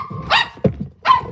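Gracie, a dog, lets out two sharp, loud barks close by with a short gap between them.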